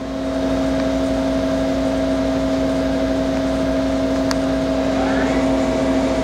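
Doosan Puma V-550 vertical turning center with FANUC 21 ITB control and two-speed gearbox running at about 340 RPM, a steady mechanical hum with a constant tonal whine and a faint brief tick partway through.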